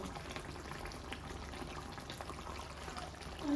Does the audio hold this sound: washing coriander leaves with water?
yes